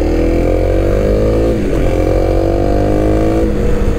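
A Kawasaki KLX 300 motorcycle engine revs up close during a test ride, pitch rising through two gear shifts, with no talking.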